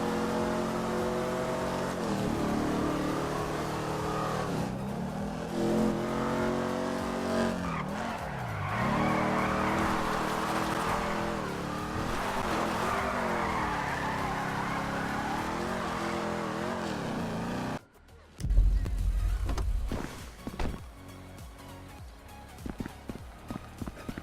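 Modded add-on car driven in GTA 5, its engine revving up and down through gears in loud repeated surges, followed by a sudden cut and some tire skids and thumps near the end; no talking.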